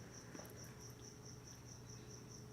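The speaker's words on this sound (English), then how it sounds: "Crickets." Crickets chirp in a continuous, even trill, a faint steady insect chorus with no other sounds.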